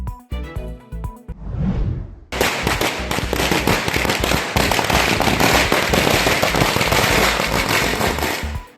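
Celebratory fireworks and firecrackers set off at a local political celebration: a few sharp pops and a rising whoosh, then a long dense rapid string of loud crackling bangs, close and continuous until it stops.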